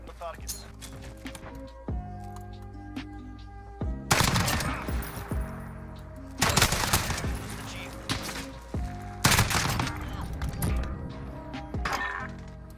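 Gunfire in Modern Warfare, several loud sharp bursts of automatic shots spaced a few seconds apart over a steady game backdrop.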